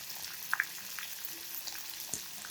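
Tomato and onion sizzle in hot oil with chilli and curry leaves for upma, a soft steady frying hiss with a couple of brief sharp pops early on.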